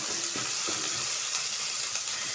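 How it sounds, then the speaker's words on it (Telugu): Ginger paste sizzles steadily in hot oil in a pan while cooking a bobbarla (black-eyed pea) curry, a dense continuous frying hiss with a few faint stirring taps, close up. "కొంచెం వేగాక అల్లం పేస్ట్ వేసుకున్నా."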